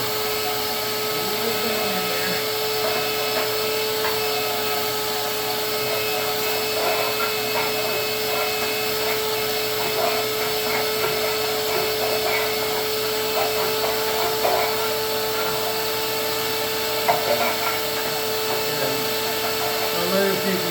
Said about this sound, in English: I can feel the rust and hear it sucking up through the hose.